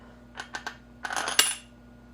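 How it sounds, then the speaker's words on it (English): A metal washer slides onto the axle of a homemade trailer dolly: a few light, close metallic clinks, then a brief rattling cluster and one sharper ring, with no talking. "next, slide on another washer"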